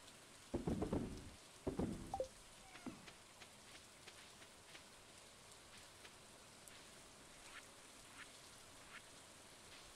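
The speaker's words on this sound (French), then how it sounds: "C'est pas de la petite pluie, hein?" Heavy rain falls steadily in the Stardew Valley farming game, a soft, faint patter that continues throughout, with a couple of loud, sharp quacking calls near the start.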